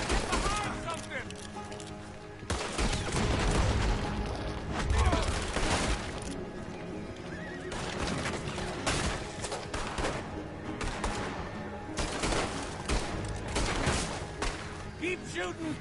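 Gunfire in the video game Red Dead Redemption 2 crackles through a chaotic shootout, dense overlapping shots and bursts running continuously and loudly, with characters shouting over the barrage.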